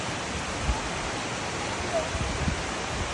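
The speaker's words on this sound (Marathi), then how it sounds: "खळखळ वाहणारे झरे" Full, babbling streams during a monsoon outing beside a brimming reservoir and green woodland, giving a steady broadband rush of flowing water, moderately loud and continuous throughout.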